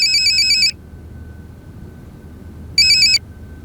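Phone ringtone in a home: a loud electronic melodic ring plays for under a second, stops during a quiet pause, then sounds again briefly, with no talking.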